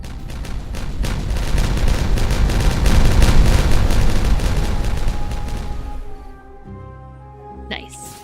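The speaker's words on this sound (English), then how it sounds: "I'm gonna detonate in 3, 2," Dynamite detonating in the beaver colony-building game Timberborn: a long, loud rolling blast of booms and crackling debris that swells, then fades into a quieter tonal game backdrop.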